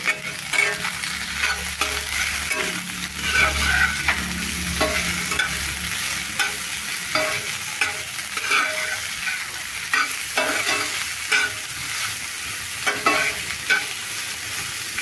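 Carrot, green chili and tomato frying in a pan for poha, a continuous close sizzle broken by regular scraping and clinking strokes of a spoon as the vegetables are stirred, with no speech.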